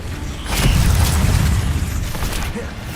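A Confringo blasting spell goes off in Hogwarts Legacy, a heavy booming blast with a rumbling, crackling tail that fills the whole moment, loud and close.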